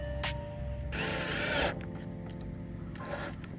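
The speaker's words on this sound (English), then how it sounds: "then drill in." A power drill driving screws whirs in a short burst of under a second, close and loud over steady background hum, followed by a fainter mechanical noise.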